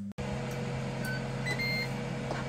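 A Ninja Foodi cooking frozen chicken wings at 180 Celsius gives a few short electronic beeps over a steady low mechanical hum, with no talking.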